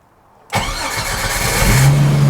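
A Jeep engine cranking and firing up, a quick crank that catches into a loud, close idle that rises slightly in revs, with no talk.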